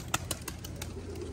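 Racing pigeons, including a blue bar white flight bird, give soft rhythmic coos in a quick series of pulses at close range in a loft, with no talking.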